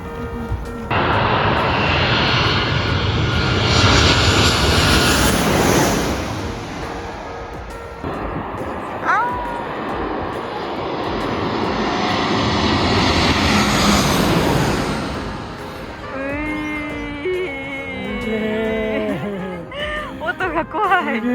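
A large airplane passes low overhead at the edge of Itami Airport, its roaring jet engines rising and fading twice, loud and close, with people talking over it toward the end.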